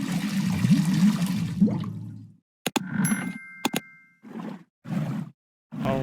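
A bucket is filled with water in the point-and-click game Dead Synchronicity: Tomorrow Comes Today. About two seconds of loud, gushing, pouring water is followed by a few brief chiming and splashing bursts separated by silence.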